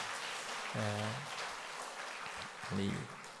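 Congregation applause at a church baptism service, a steady patter of clapping throughout while someone speaks over it.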